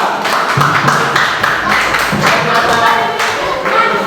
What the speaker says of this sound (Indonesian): Kita beri aplaus kepada kelompok 4.